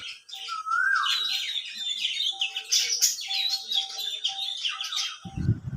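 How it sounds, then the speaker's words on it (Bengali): A cuckoo calls from a mango orchard beside an old heritage house, clear, fairly close whistled notes mixed with other birds' chirps and tweets in an otherwise quiet outdoor scene. "কি সুন্দর কোকিলের ডাক"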